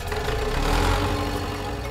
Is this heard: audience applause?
no